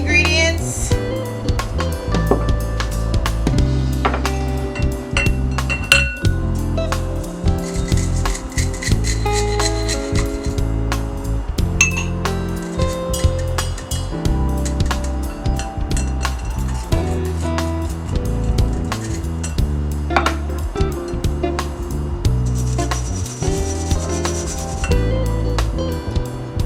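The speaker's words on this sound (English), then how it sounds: "I'm going to simply whisk that up to combine that together" Dry pancake and waffle batter ingredients being whisked in a bowl, a steady close scraping and rubbing rhythm that continues without pause at a fairly loud level.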